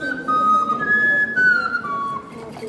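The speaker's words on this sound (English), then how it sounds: "people have been making a kind of whistle for thousands of years called an ocarina" A wooden ocarina with four holes on top and two underneath plays a short run of clear, sustained whistled notes that step between pitches, close and steady with no talking.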